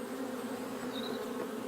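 Honeybees buzz at a hive entrance in a steady, dense drone, close and continuous with no voices.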